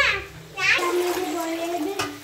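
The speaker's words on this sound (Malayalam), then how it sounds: "പിന്നെ റൈസിന് ആവശ്യമായ വെള്ളം ഇതിലേക്ക് ഒഴിച്ചു കൊടുക്കുക" Water is poured into a pot of rice for chicken biryani, a close splashing trickle that runs for a moment while a person talks over it.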